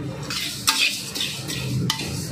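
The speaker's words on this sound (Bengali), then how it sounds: "শুধু গরম কড়াতে একবার ঘুরিয়ে নিলাম সব মশলার সঙ্গে" White mustard seeds and spices being stirred once in a hot wok for a raw mango pickle: a few quick scraping strokes and light metallic clinks over a faint sizzle, close and without talk.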